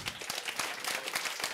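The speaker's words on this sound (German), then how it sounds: "Applaus ist es wert" A short burst of audience applause follows a talk, many hands clapping in a dense patter heard from some distance at moderate volume.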